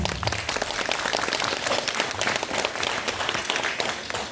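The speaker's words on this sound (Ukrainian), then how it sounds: "Оплески Насті" An audience at a school last-bell ceremony applauds a girl named Nastya, steady, dense clapping from many hands at moderate loudness throughout.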